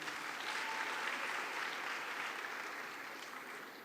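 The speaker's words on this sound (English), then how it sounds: "Another round of applause for her." A closing-ceremony audience applauds steadily at a youth forum, a continuous wash of clapping that holds moderately loud and then slowly tapers.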